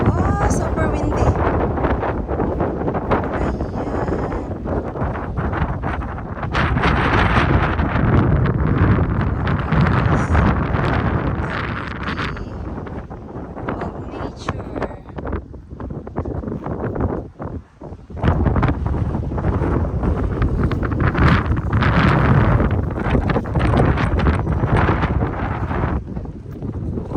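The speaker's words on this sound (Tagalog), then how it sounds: "Oh, super windy." Strong wind gusts across a hiking trail on Po Toi Island, Hong Kong, roaring loudly against the microphone in heavy buffeting waves that dip briefly before surging back.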